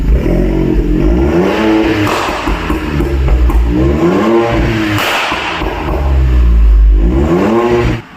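A VW Polo TSI GT fitted with a valvetronic exhaust revs repeatedly, loud and close, its engine note sweeping up and falling back in several rising bursts before cutting off.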